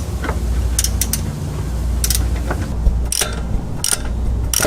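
Ratchet wrench clicking in short bursts while a wastegate is unbolted from a forged car engine's up pipe, close and fairly loud over a steady low hum, with a few sharper metallic knocks between the runs.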